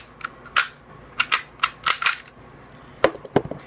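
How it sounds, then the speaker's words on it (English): Close, sharp mechanical clicks and snaps come from a WE/TM/KJW G-series airsoft pistol as its trigger is pulled and it is taken apart, in irregular bursts with short pauses. "Make sure there's no rounds in the chamber. Eject the magazine. And pull the trigger."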